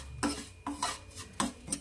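Spoon stirring vermicelli as it roasts in a pan over low heat, four soft scraping strokes against the metal at an uneven pace, quiet and close.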